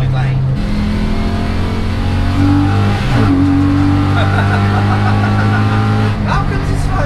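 A 450bhp 4.2L V8 car cruises on a motorway, its engine droning steadily with a brief shift in pitch midway, loud and continuous under conversation inside the cabin.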